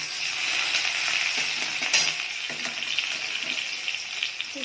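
Onions drop into hot oil already seasoned with dried red chilli, giving a close, continuous sizzle with occasional clinks and stirring scrapes.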